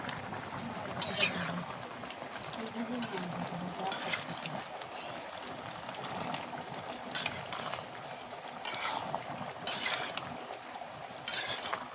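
A mrigal fish and eggplant curry is stirred in a pan, giving soft scraping and occasional metallic clinks of a utensil against the pan over a low simmering background.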